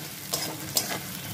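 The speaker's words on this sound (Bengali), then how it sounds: "পেঁয়াজটা ভাজা ভাজা হয়ে গেছে" Onions and green chillies fry in hot oil while they are stirred. A soft, continuous sizzle runs under two brief scraping stirs, close and fairly quiet.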